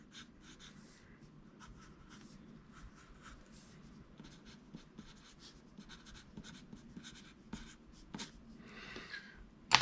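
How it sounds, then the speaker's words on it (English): A soft 4B pencil scratches and skims across paper in close, quiet strokes of uneven rhythm, ending in a couple of sharper scrapes, with no talk. "You just have to skim this over the paper and it makes a nice dark mark."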